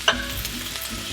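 Black vinegar hits a hot wok of kung pao chicken with a sharp initial splash, then a brief close, loud sizzle with stirring, and no talking.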